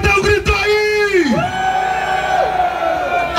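A samba school crowd at the Tuiuti 2019 parade launch yells and cheers in one loud sustained roar, with a prominent voice whooping over the massed shouting.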